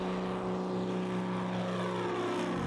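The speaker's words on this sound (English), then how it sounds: "It turns out it's in an airplane." Propeller airplane engine droning steadily from inside the cabin, a loud continuous hum with strong tonal harmonics and no breaks, no speech.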